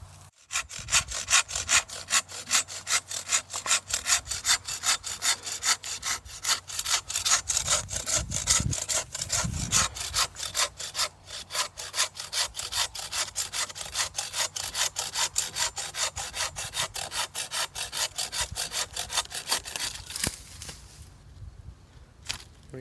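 Rapid rhythmic back-and-forth strokes of a hand saw cutting wood while trimming a tree outdoors, steady and close for about twenty seconds before stopping.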